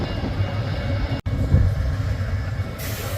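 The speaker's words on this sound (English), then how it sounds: "Steam train and our Pullman coach." Steam train with a Pullman coach at Galesburg station in freezing winter wind, a steady low rumble and rolling rail noise, with a brief cut near the middle, moderately loud and close.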